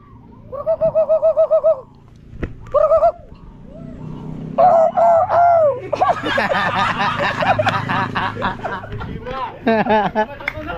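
Birds call repeatedly in warbling, chirping bursts nearby, with voices talking underneath and between the calls.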